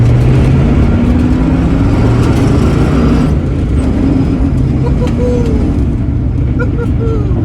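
A 1965 Ford Mustang with a freshly broken-in engine drives on the street, its loud, steady engine drone shifting pitch as it rows through the gears, with a voice talking briefly over it.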